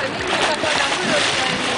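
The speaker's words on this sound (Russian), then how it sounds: "Ребенок сейчас заплыв." A child swims in a lake, making a brief burst of splashing and sloshing water close by, with voices talking over it.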